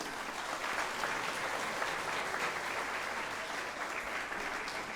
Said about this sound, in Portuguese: O que a gente mais pode oferecer nesta sala é uma grande salva de palmas.